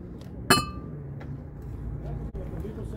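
Marigold carnival glass gives a single bright, close clink as the pieces are handled in a thrift store, with low room murmur underneath and a faint tap later.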